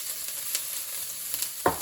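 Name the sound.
ginger and garlic sizzling in hot canola oil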